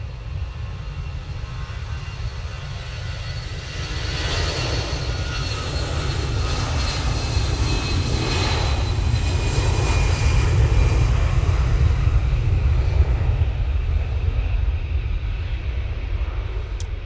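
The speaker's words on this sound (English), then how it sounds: "Easyjet on the roll." An EasyJet airliner rolls for take-off at Manchester Airport, its jet engines swelling from a steady distant roar into a broad, louder rushing thunder that builds and holds, with no voices.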